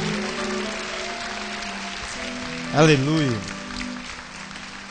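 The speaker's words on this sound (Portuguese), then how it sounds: "Aplauda Jesus de verdade," A church congregation applauds Jesus loudly, and the dense clapping runs throughout. Partway through, a voice calls out briefly over the claps.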